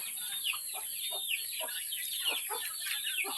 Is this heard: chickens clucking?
yes